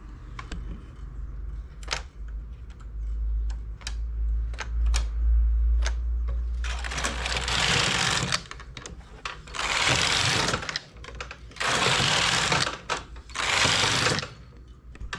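A knitting machine carriage with a ribber attached, used while making increases on a ribbed piece, sweeps back and forth in several loud, broad rushing passes after a stretch of small scattered clicks and a low hum.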